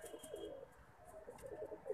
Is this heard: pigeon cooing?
yes